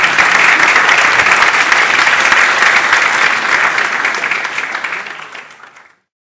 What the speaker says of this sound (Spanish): Un aplauso, muchas gracias.